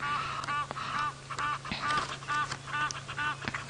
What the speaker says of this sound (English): that noise in the background are very loyal Egyptian geese